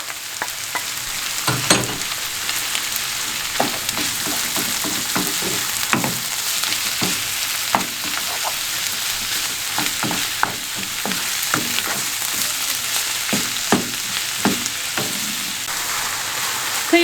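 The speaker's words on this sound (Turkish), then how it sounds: "kıymam toparlanana kadar kavurdum arkadaşlar" Minced meat, about 400 grams, sizzles loudly in a pan with softened onions, a continuous close frying hiss broken by repeated scraping stirs.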